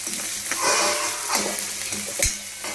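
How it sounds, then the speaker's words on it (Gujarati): Raw green peas sizzle and fry in hot oil in a pan while being stirred, a steady crackling hiss with occasional scraping clinks of the spoon, close and moderately loud, with no talking. "હવે તેલમાં આપણે એડ કરી દેવાના એટલે સારી રીતે કૂક થઈ જાય"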